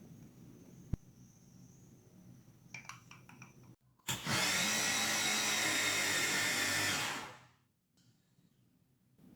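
A food processor whirs as it blends flour, squash, egg yolks and salt, one loud, steady burst of about three seconds set between quiet stretches in a kitchen.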